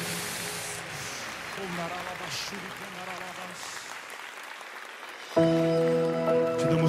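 Congregation applauding in a church worship service, a broad steady wash of clapping that swells and carries under a preacher's voice, then music with sustained tones enters toward the end.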